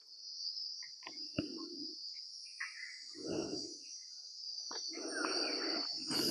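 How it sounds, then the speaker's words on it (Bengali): Crickets chirp in daytime in Joypur forest, a steady high-pitched trill running throughout, faint and constant, while soft footsteps and rustling come and go nearby. "খুব সুন্দর, দিনের বেলাতেও কিন্তু ঝিঝি পোকার ডাক শোনা যাচ্ছে"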